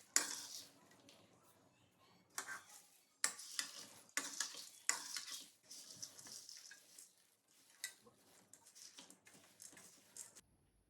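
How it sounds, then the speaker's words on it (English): Dry ingredients for Tirumala-style ghee laddu, boondi mixed with crystal sugar, tossed and stirred in a bowl; quiet stretches broken by bursts of rustling, gritty scraping and light clinks, close and fairly soft. "Then mix all dry ingredients."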